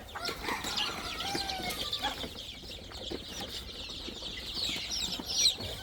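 Free-range desi chickens scratch about outdoors, giving faint scattered clucks and soft calls with a brief flutter, fairly distant and quiet throughout.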